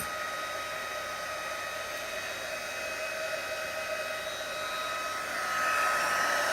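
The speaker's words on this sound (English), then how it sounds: "Now just to get my heat tool up and working." A steady, loud whirring blast of air from a small electric heat tool, running continuously and growing slightly stronger near the end.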